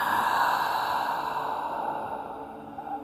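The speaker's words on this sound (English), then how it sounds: "And breathing out." A slow, deep exhalation during a guided meditation, a steady breathy rush lasting about three seconds that fades gently toward the end, close and alone with no talking.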